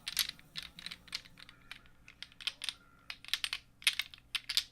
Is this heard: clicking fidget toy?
yes